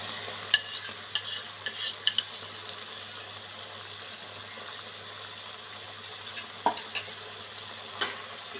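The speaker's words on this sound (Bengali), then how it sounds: "এবার এগুলোকে আমি ভালো করে মিক্স করে নেব।" Chili sauce and tomato sauce are stirred and mixed in a pan, with scattered light scraping clicks of a utensil over a faint, steady background hiss.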